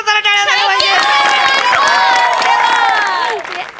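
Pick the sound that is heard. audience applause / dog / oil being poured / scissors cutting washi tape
audience applause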